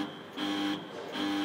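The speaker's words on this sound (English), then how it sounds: "That's my big alarm going off here now." A tower crane's warning alarm sounds in repeated pulsed blasts, an electronic buzzing tone switching on and off about every 0.7 seconds, loud and close with no talk over it.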